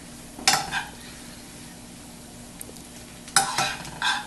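Fresh spinach stirred and wilting in a hot pan on high heat, with soft steady sizzling broken by a few bright scraping stirs of a utensil against the pan, close and fairly quiet.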